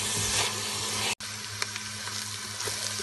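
Garlic ginger paste fries in hot ghee for a mutton korma, a loud, close, steady sizzle with a brief cut partway through and faint stirring scrapes.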